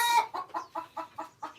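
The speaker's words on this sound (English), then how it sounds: "so these are birds. I got them out of 3 mothers, and they are thriving. They are 1 month old" Month-old chickens clucking close by, a run of six or seven short, evenly spaced clucks and peeps, clear and alone.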